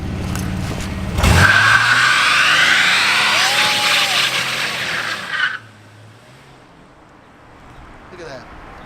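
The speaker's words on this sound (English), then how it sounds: "Let me see that one tire fire" Car tires spinning and squealing through a burnout, a loud sustained screech and engine roar that starts abruptly, holds for several seconds, then cuts off to quieter rumbling.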